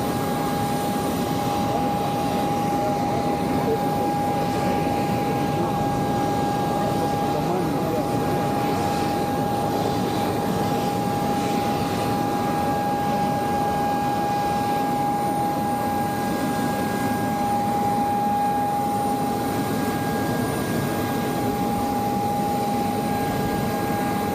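A steady, loud airplane engine drone fills the cabin while passengers board, with a constant whine held throughout and faint voices beneath.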